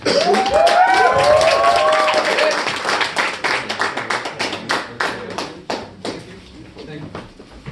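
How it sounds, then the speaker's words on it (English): Audience clapping for stand-up comedian Jake Lawrence at an opening act, a burst of claps and cheering mixed with voices that thins into scattered, separate claps toward the end. "Everybody give a big round of applause for Jake Lawrence"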